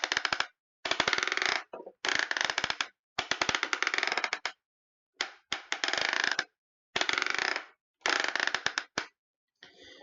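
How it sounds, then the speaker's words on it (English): Plastic ratcheting thigh swivel joint of a WFC Siege Omega Supreme toy, rapid clicking bursts repeated about eight times with short silent gaps, close and crisp. "Thigh swivel. Also ratcheted for some reason."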